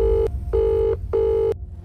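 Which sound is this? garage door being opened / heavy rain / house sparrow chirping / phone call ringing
phone call ringing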